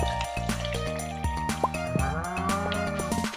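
A cow moos in Stardew Valley, a short farm-animal call rising over steady, layered background music.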